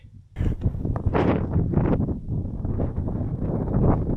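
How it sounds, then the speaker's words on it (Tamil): Strong wind blows along a lighthouse road in Australia, a dense continuous roar buffeting the microphone after a brief quiet start, gusting steadily throughout at close range. "காற்று நல்லா விசு விசு விசுன்னு அடிக்குது"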